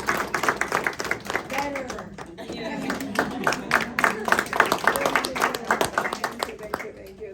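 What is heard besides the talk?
audience clapping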